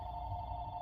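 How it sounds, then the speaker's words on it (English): A telephone rings faintly in the background, a thin steady electronic tone held for under a second with a low hum beneath it. "Huh, phone's ringing."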